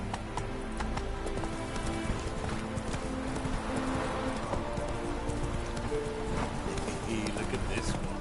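Hoof clip-clop of the horse Roach trotting in The Witcher 3, a steady rhythmic beat running through a dense game soundscape with music and ambient noise throughout.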